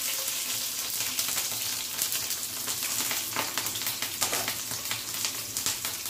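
Green chillies frying in hot oil in a kadhai, a steady close sizzle and crackle with no voices.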